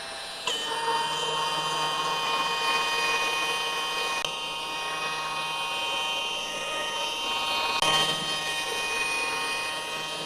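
A rotary polisher buffs fresh car paint, giving a continuous high whine with steady tonal hum, close and loud, with slight shifts in pitch as the speed changes.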